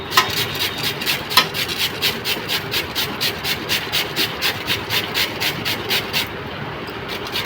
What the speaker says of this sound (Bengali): একটা আলু খোসা ছাড়িয়ে গেটারের সাহায্যে